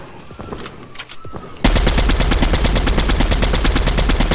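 Video game gunfire: sparse shots at first, then from mid-clip a loud, continuous rapid automatic burst that runs to the end, close and dominant with no talk.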